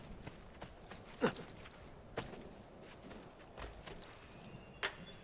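Horse hooves clip-clop in Assassin's Creed II, a quiet, irregular series of distinct hoof strikes over a soft game ambience.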